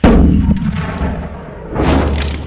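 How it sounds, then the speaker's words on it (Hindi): Explosions from the Ukrainian army firing on a long Russian military convoy: loud, deep rumbling blasts roll on continuously for a couple of seconds, swelling again near the end, with no voices. "यूक्रेन की सेना इसे रोकने के लिए लगातार धमाके कर रही है"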